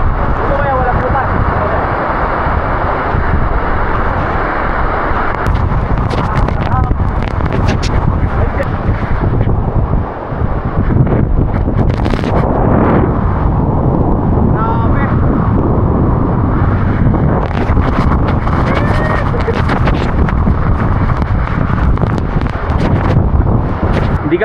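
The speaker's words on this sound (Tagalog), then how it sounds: "Ang lakas ng hangin, tapos yung tubig kumahampas papunta dito sa mga bato na to." Strong wind and waterfall spray buffet the rocks below Hulugan Falls in Laguna, making a loud, continuous rushing roar with gusty, wind-blown rumble throughout.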